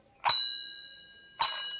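Two bright metallic temple bell strikes about a second apart at the Mahima temple in Cuttack, each ringing out clearly and fading slowly in a quiet space.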